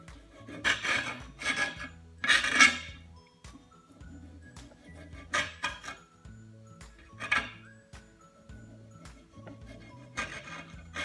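Knife slicing juicy tomatoes into fine thin slices on a chopping board in a home kitchen, giving several separate rasping strokes and cuts in irregular bursts, close and moderately loud, with no talk.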